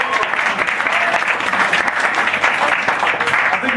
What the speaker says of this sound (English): let's applaud Chris for his appearance today